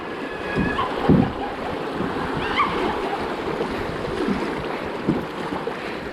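A canoe runs small river rapids in the Hérault gorges, with rushing, churning water and wind buffeting the microphone in a loud, steady roar broken by a few splashes and paddle knocks.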